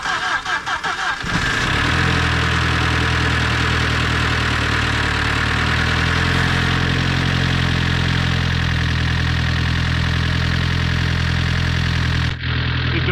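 A mid-engine Mk1 Volkswagen Scirocco engine cranks briefly, catches and settles into a steady, loud idle that runs on evenly before cutting off near the end.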